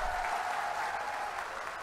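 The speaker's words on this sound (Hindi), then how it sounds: "तो जोरदार ताली हमारे उम्मीदवार करण सिंह जी के लिए बजा दो एक बार" A crowd at a Congress political rally in Jodhpur applauds for a candidate, a dense, continuous clatter of many clapping hands, fairly loud and unbroken.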